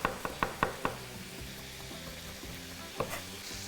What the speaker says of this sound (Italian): vado a tritare un po' di prezzemolo con l'aglio